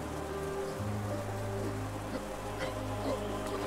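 Steady rain falls in Hollow Knight's City of Tears, a soft continuous patter and hiss under a low ambient hum, even and moderately quiet throughout.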